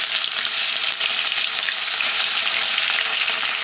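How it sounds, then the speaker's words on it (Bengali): Fish frying in hot mustard oil in a kadai, a loud, continuous, bright crackling sizzle that stays close and even from start to finish. "তেল গরম হয়ে গেছে, এখন মাছগুলোকে দিয়ে দিচ্ছি।"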